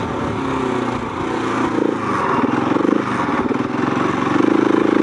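A Husqvarna 701 or KTM 790 adventure motorcycle climbs a sand dune, the single engine droning and pulsing steadily as it labours, with the revs rising partway through, heard up close from the rider with wind noise.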